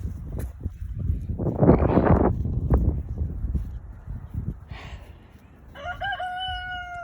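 A rooster crows loudly and near on a windy day at a backyard chicken coop, its long harmonic call ringing out near the end, with hens clucking and gusty wind noise rumbling beneath.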